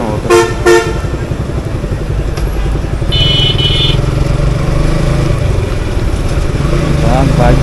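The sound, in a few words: motorcycle engine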